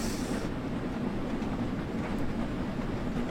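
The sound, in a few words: train running on rails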